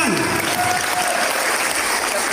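A short burst of audience applause at an Indonesian religious gathering, thick clapping for a couple of seconds, with a brief voice at the very start.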